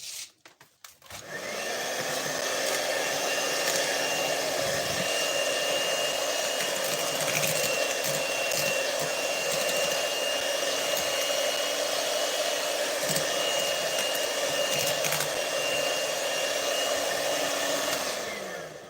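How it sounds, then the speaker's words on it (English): An electric mixer whips red velvet cake batter with eggs, giving a loud, steady motorised whir that holds unbroken for about seventeen seconds after a brief clatter at the start, with no talking over it. "I'm going to increase my mixer speed to the highest"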